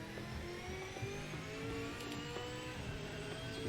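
A Morgan sports car with a four-speed gearbox revs and shifts through gears in Project Motor Racing, a fairly quiet, steady engine tone rising and falling in short steps with no voice over it.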